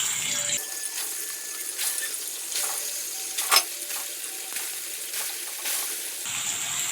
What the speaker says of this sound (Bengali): তেল গরম হয়ে গেছে, এবারে আমি পনিরটা ভেজে নেব